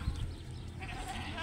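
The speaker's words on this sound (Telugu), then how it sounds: "మేకలు, పొట్టేలు పిల్లలు" Goats and sheep bleat on a desert livestock farm, short calls rising over a low, steady background at a quiet level.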